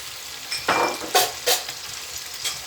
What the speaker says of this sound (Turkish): domateslerimi ekliyorum. Böyle güzelce bir karıştırıyorum.